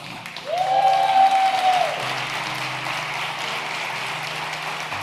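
A church congregation applauds in a dense, sustained wash of clapping, with a sustained tone rising over it for a moment before the applause continues at a steady level.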